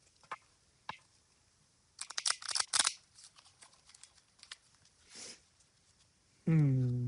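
Bursts of crisp riffling and flicking sounds of an oracle card deck being shuffled come in short clusters with pauses, followed by a brief voice at the end.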